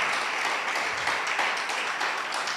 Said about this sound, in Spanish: Y el pueblo le da al Señor un poderoso aplauso.